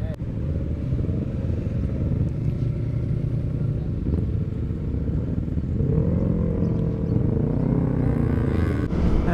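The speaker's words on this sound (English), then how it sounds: "there's a ton of bikes out today" Motorcycles ride along a road on a sunny spring day, giving a steady, loud engine rumble with wind, and the drone rises slightly in pitch toward the end as the bike accelerates.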